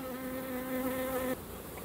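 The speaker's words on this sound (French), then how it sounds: "Plein d'abeilles qui arrivent avec du pollen" Honeybees arriving at a hive entrance laden with pollen, a steady close buzzing drone with a clear hum that cuts off abruptly near the end, leaving softer background buzzing.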